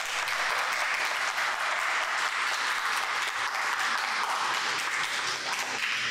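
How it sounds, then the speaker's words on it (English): An audience at a speaker series event applauds for the speaker Tammy, a steady dense wash of many hands clapping from start to finish, full and sustained with no voices. "let's give Tammy one more round of applause."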